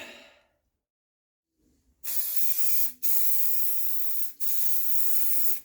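Spray gun laying a heavy wet paint coat onto old Mopar car bodywork, a loud steady hiss in three long bursts with short breaks between, after a quiet start.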